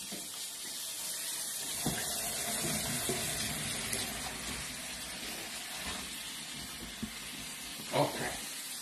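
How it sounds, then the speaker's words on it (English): Cold tap water pours steadily over freshly drained pasta in a kitchen sink, a continuous close hiss and splash with a few small clunks, and no voices. "And I want to run the cold water."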